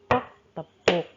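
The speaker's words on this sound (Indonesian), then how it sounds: "di sini kalian juga dapat membuat irama dengan memukul meja dan tepuk tangan" Three sharp hand strikes in a rhythm of knocks on a table and claps, each crisp, close and spaced apart with silence between.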